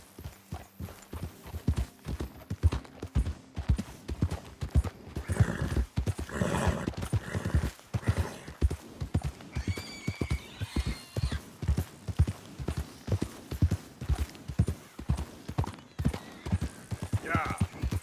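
A horse's hooves clip-clop in a steady rhythm throughout a Red Dead Redemption 2 ride near Clemens Point, close and clear, with a brief neigh and characters talking over it.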